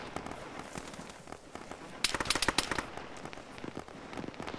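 Gunfire in the military simulation game Arma during a ShackTac squad assault on a bunker: a burst of sharp, rapid shots erupts midway and keeps popping irregularly at moderate distance, with quieter scattered reports before it.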